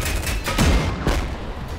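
Scorpion creatures firing from their tails in the sci-fi strategy shooter Silica, heard as a dense, loud burst of rapid game gunfire and booms with no talk.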